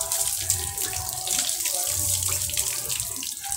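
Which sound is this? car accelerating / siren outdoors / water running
water running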